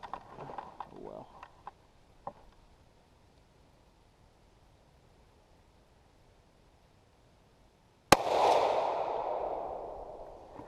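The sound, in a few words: gunshot from rifle firing reloaded 6.5x55 Swede ammo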